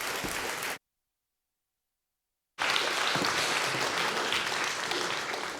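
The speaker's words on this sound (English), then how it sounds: "it's appropriate to have the applause before I speak" Warm audience applause at a research conference on social inequality, welcoming a speaker to the stage; dense steady clapping, interrupted by a gap of complete silence before resuming just as strong.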